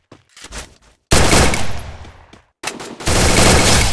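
Gunfire in Garena Free Fire: a few faint, scattered shots, then two loud, sustained bursts of rapid automatic fire split by a short gap.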